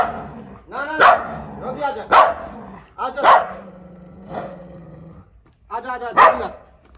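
A pit bull and a street dog bark and snarl in a scuffle, loud yelps and growls erupting in bursts, with a person talking over the commotion.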